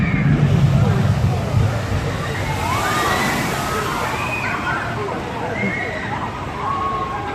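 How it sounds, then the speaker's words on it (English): A water ride at Thorpe Park theme park hits its splash pool with a broad sloshing rush of water, heavy at the start and then easing. Crowd babble and nearby voices run underneath. "Let's see the splash."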